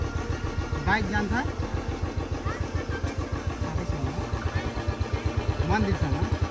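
A motorcycle engine running close by on a village road in Nepal, with a steady rapid thumping beat throughout while voices talk over it.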